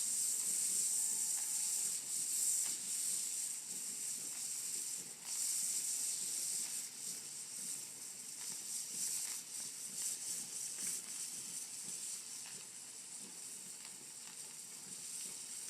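A pressure canner processing chicken on an electric stove hisses steadily with bright, continuous steam, its weight rattling in quick ratchet-like bursts throughout, close and fairly constant with no talk.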